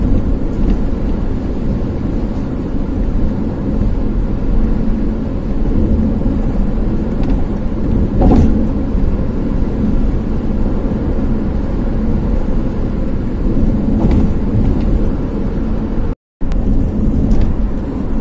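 A 2011 Nissan X-Trail cruising on an elevated highway at over 100 km/h, a steady loud broadband road and wind roar throughout with no talk and a brief dropout near the end.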